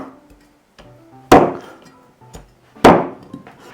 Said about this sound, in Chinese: 我们来给它改一下刀